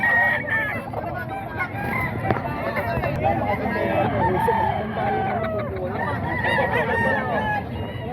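Roosters and other fowl crow, honk and cluck at a busy chicken market in Bocaue, a dense overlapping chorus close by, with people talking throughout.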